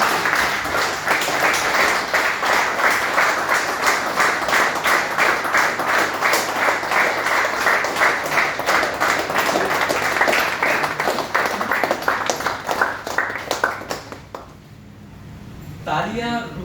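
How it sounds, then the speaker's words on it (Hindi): A standing ovation at a work meeting, with dense, loud clapping across the room held steadily for about fourteen seconds before dropping away into voices and a brief sound near the end. "खड़े होकर जोरदार तालियां"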